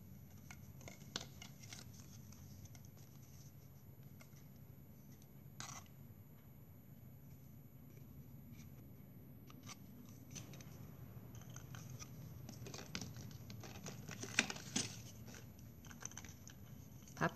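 Scissors cut 8 mm plastic drinking straws into 5 cm pieces for straw flowers, faint scattered snips and small clicks over a steady low background hum.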